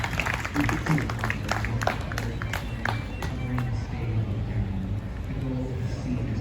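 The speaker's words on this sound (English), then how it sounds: "let me applaud Tamu Favor one more time" An audience at a Harlem poetry festival applauds a poet, a dense burst of clapping that is strongest in the first few seconds and then thins out and fades under a low murmur of voices.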